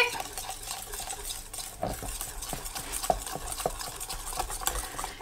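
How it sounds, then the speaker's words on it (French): Cake batter with baking powder being stirred in a bowl for a pumpkin and mozzarella cake, a steady scraping swish with light spoon taps against the bowl, close and alone with no talk. "J'ai mis ma levure chimique, je vais mélanger."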